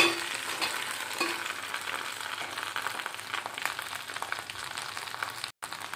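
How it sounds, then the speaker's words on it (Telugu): Fried potato slices tipped into a hot pan and stir-fried, giving a steady, dense sizzle broken by stirring scrapes, with a brief dropout near the end and no voices. "ఇందులో వేయించుకున్న బంగాళదుంపలు వేద్దాము."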